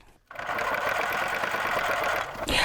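A sewing machine runs steadily for about two seconds, stitching cording onto a decorator pillow, after a brief quiet start, with no talking.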